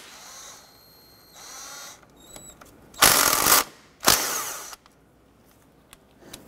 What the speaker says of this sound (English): we're going to use our 10 millimeter socket and remove these two bolts.